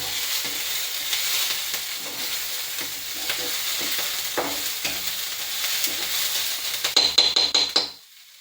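Chopped onion frying in a pan while being cooked down for poha, a continuous close sizzle with stirring scrapes, ending in a quick run of metallic clinks of a spoon against the pan before going quiet.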